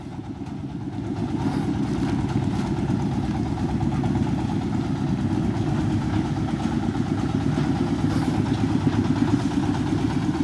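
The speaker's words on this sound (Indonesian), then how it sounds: "kendaraan pengangkut TBS di lahan gambut, kapasitas muatan 3 ton dengan menggunakan mesin Dongfeng" A 32 HP Dongfeng engine runs on a 3-ton palm fruit bunch transport vehicle built for peat land, chugging loudly and steadily at a constant idle-like pace close by, with no talking.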